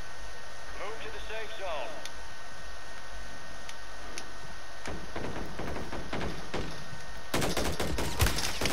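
Gunfire in the Call of Duty Warzone video game: scattered sharp shots come first, then a loud rapid burst near the end, with voices talking over radio hiss.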